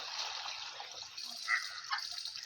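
Ten litres of water pour into a basket, mixed with a few millilitres of medicine for treating poultry. It makes a steady, close rushing splash that swells briefly twice as the flow surges.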